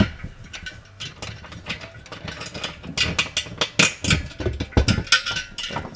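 A hand wrench ratchets bolts loose during a Scion xB teardown. Quick clicking bursts repeat irregularly at close range, with no talk.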